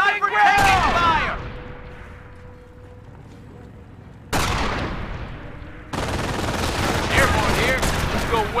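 Bursts of rifle and machine-gun fire in Company of Heroes, a Normandy battle at Carentan: a loud volley at the start, a quieter stretch of distant shots, then renewed heavy firing with shouted voices mixed in.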